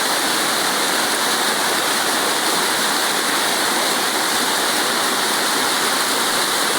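Olichi waterfall near Chittanda, Vadakkanchery in Thrissur, water rushing over rocks in a loud, unbroken roar that stays constant and close throughout.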